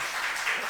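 A church congregation at a Friday service claps in a short, even burst of applause.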